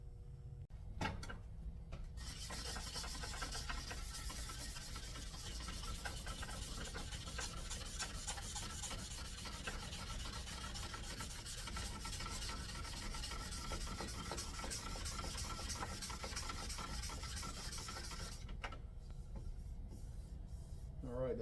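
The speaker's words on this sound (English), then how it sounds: "So let's get to sanding." A carbon fiber mountain bike frame is sanded by hand with continuous, rapid raspy strokes, faint but steady for most of the stretch before stopping near the end.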